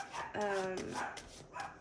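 A dog barks a few times in quick succession, clear and fairly close, with a voice talking around it.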